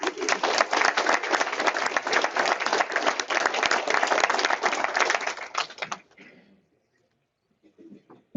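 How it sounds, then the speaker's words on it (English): A meeting audience gives a steady, dense round of applause for Maestro George Stelluto of the symphony orchestra, clapping for about six seconds before stopping abruptly, followed by brief quiet and a few faint sounds. "So if you would please give a big round of applause for my good friend, Maestro George Stelluto"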